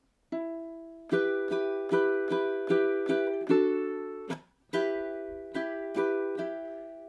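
Ukulele playing the opening two measures of a song, strummed chords in a steady down-up rhythm, about a dozen bright strums with a brief pause near the middle, close and clear with no talking.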